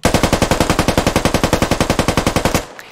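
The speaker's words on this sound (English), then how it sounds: "I'm going to mag dump here, it's going to be very loud." Sustained automatic rifle fire emptying a full magazine in the military shooter game Squad, roughly thirty rapid, evenly spaced loud shots in one unbroken burst lasting under three seconds before a short echoing tail.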